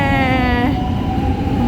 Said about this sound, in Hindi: मेट्रो जा रही है